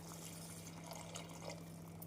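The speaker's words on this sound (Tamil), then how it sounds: "நம் குழம்பிற்கு தேவையான தண்ணீர் ஊற்றிவிடலாம்" Water poured into a pot of chicken gravy cooked with chickpeas, a faint, brief liquid splash and trickle over a low steady hum.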